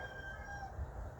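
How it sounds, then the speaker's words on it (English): Roosters crowing early in the morning at a family ranch, a faint, thin call carried over a steady low rumble of background noise. "That's the roosters crowing bright and early"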